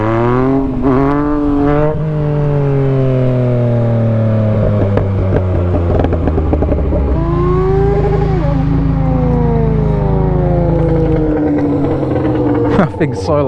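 A Yamaha XJ6 motorcycle engine revs very loudly up close, its pitch sweeping up and down through repeated throttle blips, with a voice talking over it.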